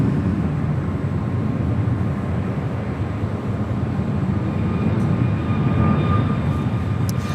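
A nine-year-old Hawaiian Airlines A330-200 jet, Flight 3 bound for Honolulu, at Los Angeles International Airport, producing a loud, continuous broadband engine roar that holds steady throughout.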